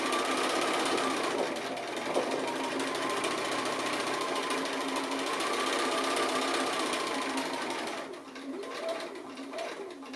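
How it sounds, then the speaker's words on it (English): A sewing machine runs continuously with a rapid mechanical buzz, slowing briefly near the end, while birds coo faintly in the background. "a little bit of decorative drawing with your sewing machine"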